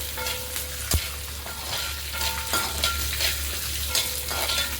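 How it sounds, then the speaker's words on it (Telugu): Chana dal and green chillies fry in oil in a pan, a close steady sizzle with a spoon stirring and scraping at intervals, no talking. "ఇది బాగా వేయించుకోవాలి, బాగా ఎర్రగా వేగాలండి."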